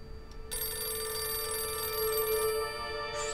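An office telephone rings on without being answered, a steady electronic trilling bell sounding continuously and fairly close in a quiet room, with no voices over it.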